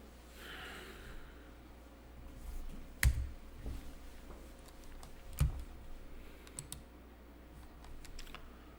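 Quiet, sparse computer keyboard typing with two sharper key presses, including the Tab key, over a soft background hiss and a faint sniff, with no talking.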